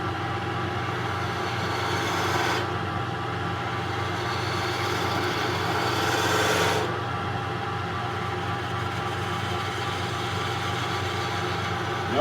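A woodturning tool cuts a spindle on a lathe over a steady motor hum, with two drawn-out swells of cutting noise rising and fading against the continuous drone.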